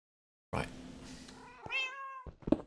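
A Minecraft cat lets out a couple of meows, clear and near in the game, one after another with short gaps and no talking over them.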